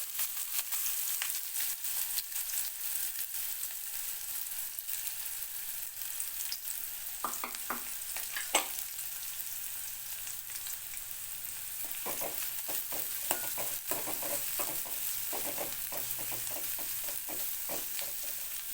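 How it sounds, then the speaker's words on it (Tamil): Chopped onions sauté in a pan with cinnamon, cloves and cardamom for chana masala, a steady gentle sizzle broken by clusters of spoon scrapes and taps as they are stirred. "வெங்காயம் வந்து நல்ல பொன்னிறமாக வதங்கி வரட்டும். அது வரைக்கும் வதக்கலாம்."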